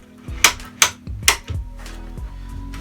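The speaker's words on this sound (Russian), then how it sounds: "А здесь просто защелкивается на защелку. 3 щелчка." A concealed-mount drawer runner latching onto a drawer: three sharp, close snapping clicks in an even rhythm, each followed by a brief lower knock, with no voices.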